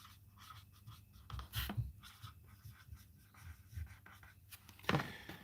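A pen scratches across a score card for a pepper steak pie from Lake Farm, producing soft, quiet scribbling strokes in short bursts with brief pauses and one louder scrape near the end.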